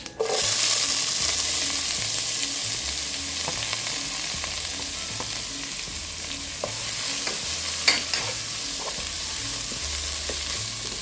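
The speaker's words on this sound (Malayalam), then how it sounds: "നമ്മൾ അരിഞ്ഞു വെച്ചിരിക്കുന്ന ഉള്ളിയും അതുപോലെ തന്നെ പച്ചമുളകും കറിവേപ്പിലയോട് ഇട്ട് കൊടുക്കാം." Onion, green chili and curry leaves fry in coconut oil in a pan, giving a loud, steady sizzle with repeated stirring scrapes and clinks throughout, no voices.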